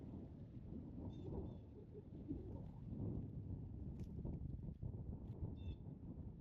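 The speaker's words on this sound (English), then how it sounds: "wind is kind of ripping right here" Wind blows steadily across an open disc golf course, a loud, continuous rumbling roar buffeting the microphone with no pauses.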